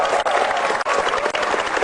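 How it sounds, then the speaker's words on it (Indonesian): Audience applause at an Indonesian stand-up comedy show, a dense steady wash of clapping that stays loud and continuous from start to finish with no voices over it. "Arif Didu, tepuk tangan sekali lagi."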